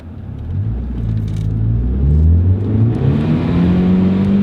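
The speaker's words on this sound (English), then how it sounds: "And what can this little turbo engine do?" A small turbocharged car engine accelerates, its loud, close rumble rising steadily in pitch as it revs up, with no talking.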